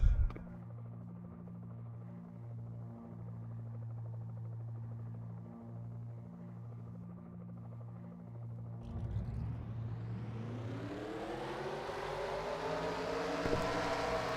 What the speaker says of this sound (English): let's go ahead and get the command to fire engines for the Southern 500 at the Darlington